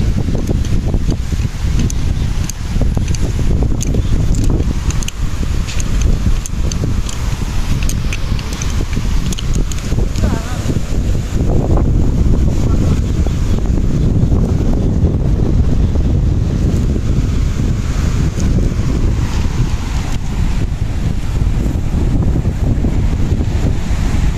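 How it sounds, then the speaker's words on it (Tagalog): Big waves surging onto a seashore under steady wind, a loud, continuous roar of surf and gusts buffeting the microphone throughout, close and unbroken with no voices. "Malaki ang alon"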